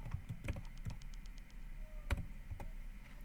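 Quiet keystrokes tap on a computer keyboard in short, irregular bursts with brief pauses, close by and faint in an otherwise still room.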